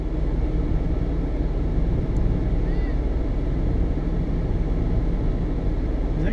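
An off-road vehicle throttles up the Big Red sand dune, its engine a steady, continuous drone with wind-like rumble heard from a distance, no clear revving peaks.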